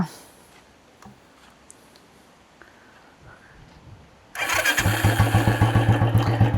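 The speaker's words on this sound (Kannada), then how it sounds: "Exhaust sound ಕೇಳ್ಬಿಡೋಣ." Royal Enfield Electra motorcycle starting after a quiet lull, the starter catching suddenly into a loud, close, thumping exhaust idle with a steady pulsing beat.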